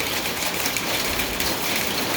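Rain falling in the desert under sunshine, a soft, even hiss of drops pattering on surfaces, steady and moderately faint, with no talking.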